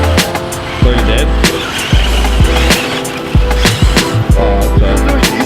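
An RC car motor at half throttle on sand dunes at Glamis: repeated sharp whirring bursts and skittering tire noise, close and loud, pulsing in short surges.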